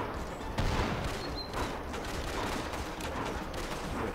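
Dense, continuous gunfire crackles in the Western train shooter game Bounty Train, overlapping shots forming a steady fusillade with no clear pauses.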